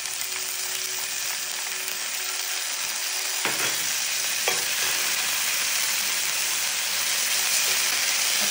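Ginger and garlic sizzle in olive oil in a pan, a bright, steady hiss that goes on throughout, broken by a couple of short clatters of stirring near the middle.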